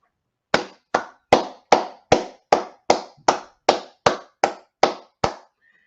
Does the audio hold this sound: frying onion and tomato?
no